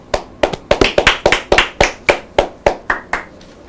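A television studio crew claps in a brisk, uneven rhythm, about a dozen sharp, close hand claps spread over a few seconds, each with a short ringing decay, and no talk over them.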